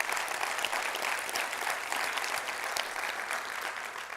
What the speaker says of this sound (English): just a quick round of applause for all the people behind the scenes at the LF who make this possible